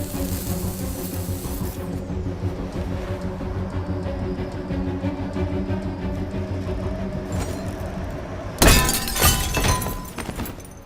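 Glass shatters in the video game Detroit: Become Human, a sudden bright crash bursting in near the end over a steady low background hum, then trailing off.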